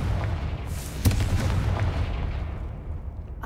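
A blasting-spell explosion rings out in the game Hogwarts Legacy on PS5, a loud sharp boom with a rumbling, noisy tail that fades over a few seconds, and no talk over it.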